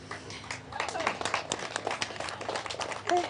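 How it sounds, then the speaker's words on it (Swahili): Live audience applause at a Meru TV studio broadcast, a dense patter of hand claps rising and falling for a few seconds, fairly close, with voices mixed in. "Yeah, makofi menifurahisha."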